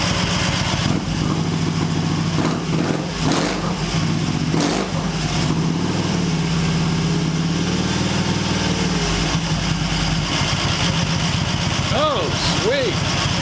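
An Excelsior Henderson Super X motorcycle engine idles low and uneven while being tuned, showing its age and threatening to stall, a close continuous rumble with a few brief revs near the end.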